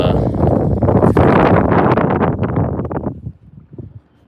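Loud, blustery wind on the saltwater shore near high tide buffets the microphone in a steady roar for about three seconds, then drops to a gustier, quieter rush.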